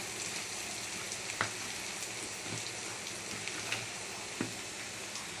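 Onion with ginger paste frying in a pan, a dense steady sizzle like rain with occasional sharper pops and spatters.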